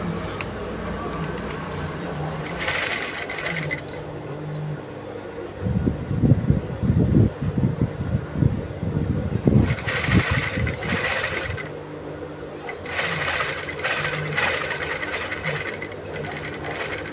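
A sewing machine runs steadily as it stitches a facing close to the fabric edges, with short bursts of faster, louder stitching between quieter stretches.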